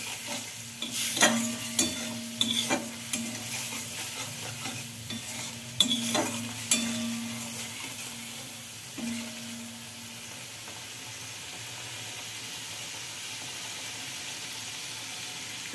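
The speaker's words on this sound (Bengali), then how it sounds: "একটু ভালো করে কষিয়ে নিতে হবে।" A spice paste thinned with a little water is sautéed in a pan. Repeated stirring scrapes and clanks of a spatula come at first over a soft sizzle, then the sizzle carries on alone and quieter.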